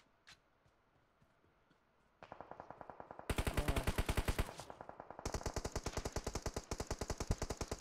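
Video game gunfire bursts out after a quiet start: rapid machine-gun volleys, loud and close, rattling continuously with brief breaks between bursts.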